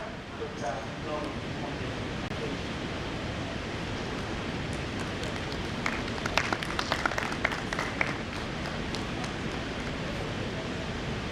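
Audience applause at a pharmaceutical society's annual CPD conference in Uganda, a steady wash of many hands clapping that carries on throughout, with a few sharper nearby claps standing out midway.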